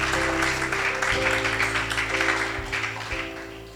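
A church congregation applauding in praise, a dense sustained wash of clapping with sustained musical tones underneath, fading slightly toward the end.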